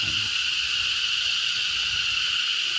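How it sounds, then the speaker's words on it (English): Cicadas buzzing in a steady, dense drone along a walking route in Hue's Imperial City, Vietnam, continuous and fairly loud throughout with no pauses and no voices. "So these like cicadas are everywhere."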